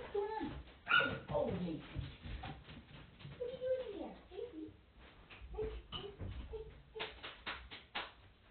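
An old deaf dog whimpers and whines from behind a closed door, a series of faint, uneven yelps and soft cries at close range, with a voice or other light household noise mixed in.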